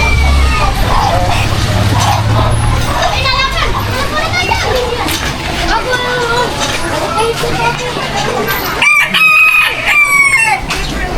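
A bantam rooster crows loudly near the end, amid children playing and people talking nearby, in Laguna, Philippines.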